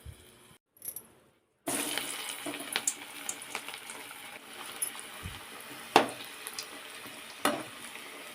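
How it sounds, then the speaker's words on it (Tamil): Puffed rice dropped into hot oil for snacks, frying with a steady crackling sizzle and several sharp pops and clinks standing out, close and moderately loud after a brief near-silent gap at the start. "இப்போ காஞ்சிடுச்சா இல்லையான்னு பார்க்க ஒரு பொரியை போட்டு பார்த்துக்கலாம். பார்த்திங்கன்னா நல்லா பொரியுது"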